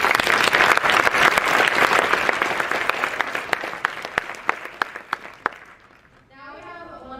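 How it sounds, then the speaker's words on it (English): A crowd applauds at the HackMIT 2022 hackathon opening ceremony, loud dense clapping with crisp individual claps that gradually thins and fades, followed by a voice beginning to speak. "Let's give them another round of applause."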